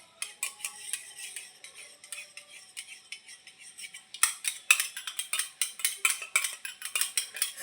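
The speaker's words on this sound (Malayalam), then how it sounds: "ഇനി സ്പൂൺ കൊണ്ട് ഇളക്കുക." A spoon whisks two eggs in a bowl, quick rhythmic clinks and scrapes against the sides, lighter at first and then faster and louder, close up with no talking.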